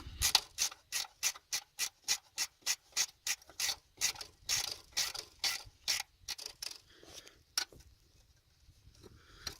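Ratchet loosening bolts on a 2001 Ford F150 5.4L thermostat housing, close rapid clicking strokes in a steady rhythm, then slower, sparser clicks fading out.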